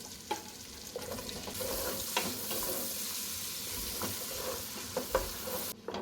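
Onion frying in melted butter in a pan, a continuous close sizzle with occasional stirring scrapes and clicks, no voices.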